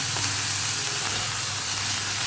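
Cut carrot and potato sautéing in hot oil in a pan, a steady, even sizzle with a low hum underneath, constant and close throughout, no one speaking.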